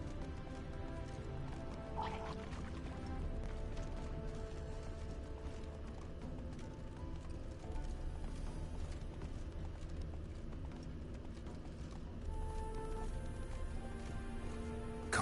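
Roach the horse's hooves clip-clop steadily through a stretch of The Witcher 3 video game, soft and even under a continuous ambient game soundscape.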